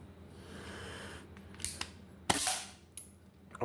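A Tokyo Marui M1851 Navy airsoft revolver fires a few sharp, snappy cracks, spaced irregularly over a quiet background, each a short bright pop close to the microphone.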